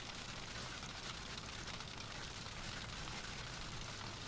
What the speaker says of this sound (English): Is that hail?